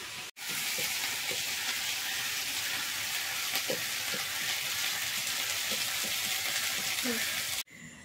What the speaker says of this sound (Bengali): আমি রুটি আর আলু ভাজা তৈরি করতে চলে এসেছি